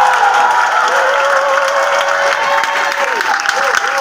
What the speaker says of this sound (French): Est-ce que tu peux acclamer Jésus ce soir?